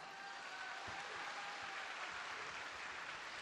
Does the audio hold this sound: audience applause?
yes